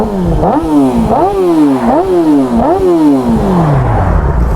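A motorcycle with a loud, throaty Leo Vince SBK GP style aftermarket exhaust revs up and drops back several times in a rising, falling rhythm, close and powerful, ending in a settling idle.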